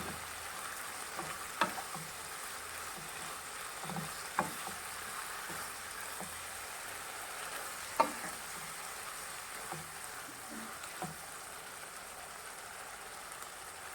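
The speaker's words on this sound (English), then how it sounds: "Now we'll add masala, which is turmeric powder and garam masala, and saute it for a while" Beef sautés with turmeric powder and garam masala, a faint, steady sizzle broken by occasional soft scrapes and knocks of stirring, with no talking.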